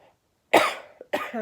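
Two sharp coughs close to the mic, the first louder and longer, followed a moment later by a shorter second cough.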